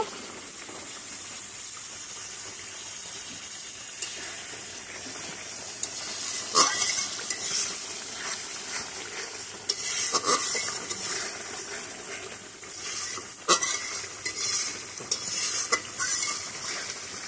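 Masala with a pinch of turmeric is stirred and fried in a pan, giving a steady low sizzle with intermittent scraping and sharp metallic clinks of a spoon against the pan, louder bursts recurring every few seconds.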